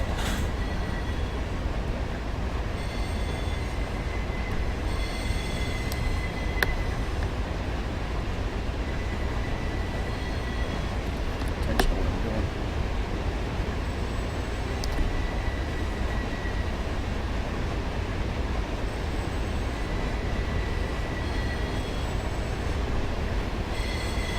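Continuous low rumble of a freight train getting up to speed along the tracks, with occasional faint high squeals from the wheels, steady and moderately distant.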